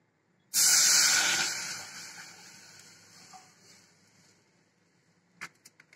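Water poured into a hot pan bursts into a loud hiss that slowly fades into a softer steaming sizzle, followed by a few short clinks at the end.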